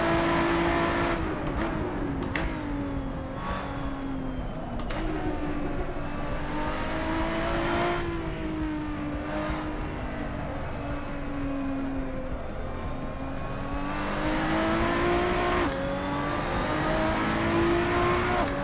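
A muscle car engine in the Assetto Corsa racing game roars continuously, rising and falling in pitch through gear changes and throttle lifts, loud and up front without talk.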